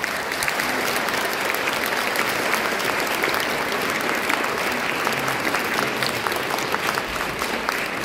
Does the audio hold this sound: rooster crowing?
no